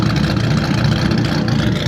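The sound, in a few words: Dodge Viper engine idling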